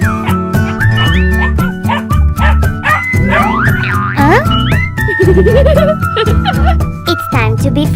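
A dog yips, barks and whimpers in quick bursts during doll play on a farm set, mixed with bright tonal sounds and jingles.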